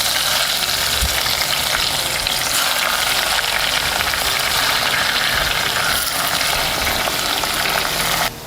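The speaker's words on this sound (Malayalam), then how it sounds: "അതും കൂടെ നമുക്ക് വറുത്ത് കോരിയെടുക്കാം." Sliced bitter gourd deep-fries in a pan of hot oil, giving a loud, dense and continuous bubbling sizzle that holds steady throughout and eases slightly at the very end, with no voices.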